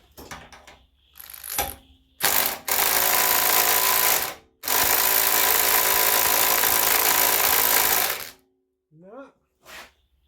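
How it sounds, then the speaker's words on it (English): A power drill whirs loudly in several bursts, drilling out a part on a 127cc lawn mower, including two long sustained runs, with brief mechanical clicks and a few short spoken sounds at the end. "We'll have to drill that out and pull that out with the tool"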